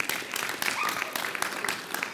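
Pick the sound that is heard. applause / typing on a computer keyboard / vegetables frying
applause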